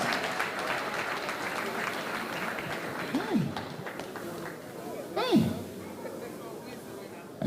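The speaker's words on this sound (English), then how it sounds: "Celebrate them with a round of applause." Steady audience applause at a graduation ceremony rolls on as a continuous wash of clapping, with a voice talking loudly over it and a few sharp whoops rising above the crowd.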